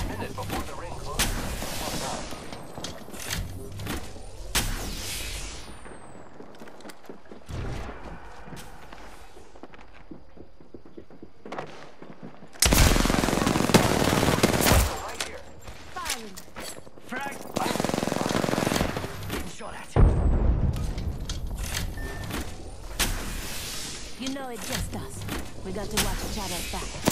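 Video game gunfire in Apex Legends, with bursts of shots and impacts in heavy, loud stretches, quieter passages in between, and talk over parts of it.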